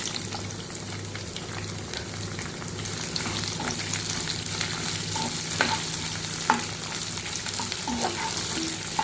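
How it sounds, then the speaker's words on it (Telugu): Onions frying in a pan for a lunch dish, with a constant moderate sizzle, light stirring clicks and a faint low hum throughout and no voices. "ఆనియన్స్ వేసుకొని ఫ్రై చేస్తున్నాను"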